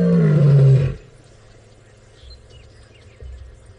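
A lioness roars loudly at dusk on a safari drive, one powerful close call that stops abruptly, followed by a low rumble and faint background.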